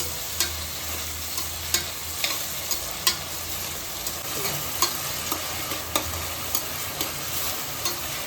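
Onions sauté with salt in a pan for crab masala: a constant hissing sizzle runs throughout, punctuated by regular sharp clicks of a spoon stirring against the pan.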